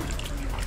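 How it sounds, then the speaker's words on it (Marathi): Water at a hot spring pool (kund) in Chiplun trickles and splashes in a steady, close, unbroken wash. "हे बघा, हे एक आहे गरम पाण्याचं कुंड"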